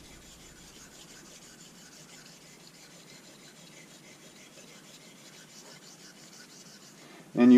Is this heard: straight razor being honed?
yes